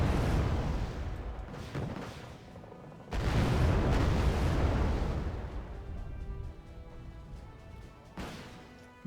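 Grenade explosions and artillery blasts in the real-time strategy game Wargame Red Dragon: a loud booming crash opens, a second heavy blast hits around three seconds, then rumbling impacts trail off, with another thud near the end.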